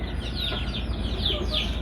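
Farm geese call in a series of nasal, honking cries that rise and fall over a continuous rustling outdoor background, fairly close and loud, with no talk.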